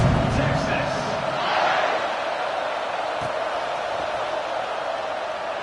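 A football stadium crowd roars steadily before kickoff, a broad, continuous wash of cheering with a commentator talking over it.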